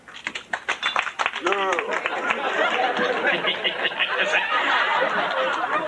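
A comedy club audience laughs briefly over a talking voice, then breaks into a dense, continuous wash of applause that fills the room and holds steady for several seconds.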